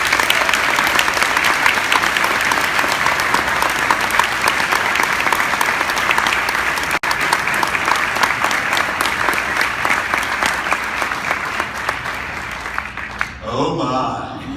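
Sustained, dense audience applause welcoming George Takei to the stage at the Social Media Today Shake Up Conference, steady and loud for about thirteen seconds before tapering off abruptly at the end.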